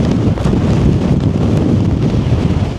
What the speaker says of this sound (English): that wind's got up, hasn't it?